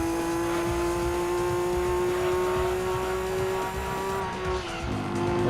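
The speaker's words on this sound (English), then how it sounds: "We'll hit the rev limiter there." A race car engine in Gran Turismo 2 holds a loud, sustained high-pitched drone near the rev limiter, joined by tire noise, steady throughout and swelling slightly at the very end.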